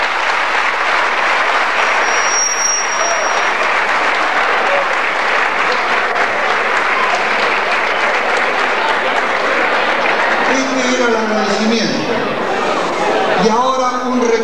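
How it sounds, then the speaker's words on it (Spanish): Loud, sustained applause from a large crowd at the Huracán club's 80th anniversary celebration fills the room, with voices rising over the clapping near the end. "Un aplauso fuerte para él."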